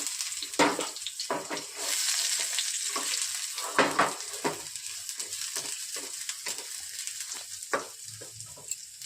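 Chopped garlic frying in hot oil in a pan with bay leaves, a steady soft sizzle broken by several sharp stirring scrapes and brief clattering bursts, close and moderately loud, with no one talking.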